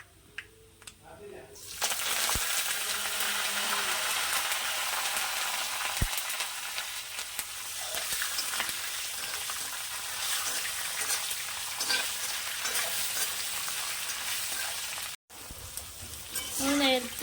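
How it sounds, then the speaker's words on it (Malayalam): Coconut, ginger and garlic with curry leaves fry loudly in hot oil, a dense steady sizzle that jumps up sharply after a quiet start, with a brief dropout near the end and a voice faintly under it. "തേങ്ങയും ഇഞ്ചിയും വെളുത്തുള്ളിയൊക്കെ നന്നായിട്ട് മൂത്ത് വന്നിട്ടുണ്ട് നമുക്ക് കുറച്ച് വേപ്പിലയും കൂടി ഇതിൻ്റെ അകത്തോട്ട്"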